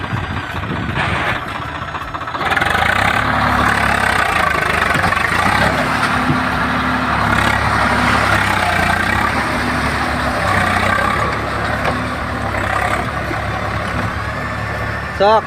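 A farm tractor engine labours steadily with a strong, continuous low drone as it pulls free from deep mud, loud and close throughout with brief knocks at the start.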